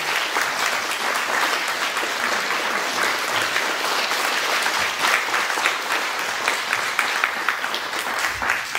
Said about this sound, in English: while everyone gives you a big round of applause for helping bring this all together.